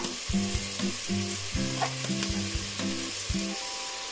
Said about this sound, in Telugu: ఇక్కడ చూడండి, దీంట్లోకి రైస్ వేసేస్తున్నాను.